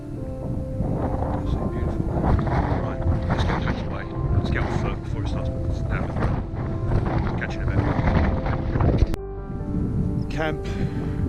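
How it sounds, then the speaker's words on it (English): Steady wind gusting across a sodden lakeside wild camp at Black Beck Tarn below Haystacks, a continuous broadband rush with buffeting on the microphone, lasting throughout with a brief dip near the end. "Still quite windy."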